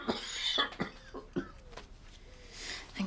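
A series of short coughs from a man with bronchitis, six or seven bursts spaced irregularly, close by, with a faint hiss trailing at the end.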